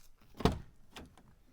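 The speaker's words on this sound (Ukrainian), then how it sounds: "Дверки тихенько закриваються, тому що все обешумлене" The sound-insulated side door of a 2020 Renault Trafic long-wheelbase passenger van with a 2.0 85 kW diesel closes with one soft, muffled thunk, followed by a lighter latch click a moment later.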